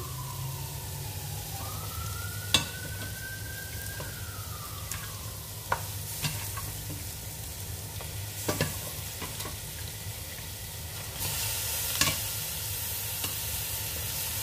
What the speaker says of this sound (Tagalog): Fry natin para mas lalong masarap.